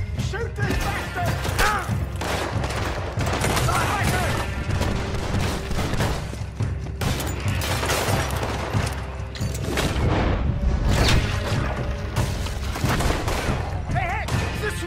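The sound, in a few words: gunfight in Red Dead Redemption 2 video game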